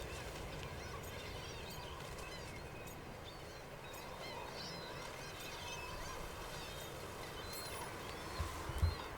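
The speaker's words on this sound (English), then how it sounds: "Stupid birds." A flock of birds in the fantasy game Dragon Age Veilguard squawk and honk together in a faint, steady chatter of overlapping calls, with a couple of louder thumps near the end.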